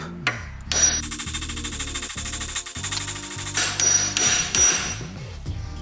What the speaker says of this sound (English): we're just gonna hit it with a hammer and watch this thing drop.